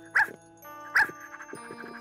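Dog barking in a cartoon, two sharp, close barks about a second apart, followed by softer whimpering yips and a light musical background.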